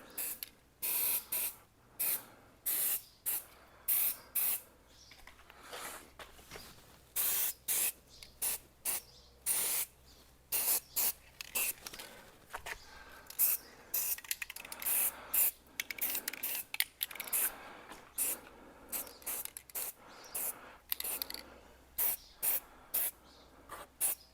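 Short bursts of an aerosol spray can painting a Jaguar XKR rear brake caliper, repeated hissy blasts close up with brief pauses between, quieter spraying in the middle stretch.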